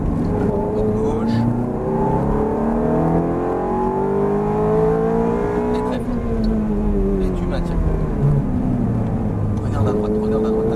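Ferrari F430 on a circuit at light, steady throttle, the engine droning and shifting pitch gently, with a driving instructor talking over it throughout.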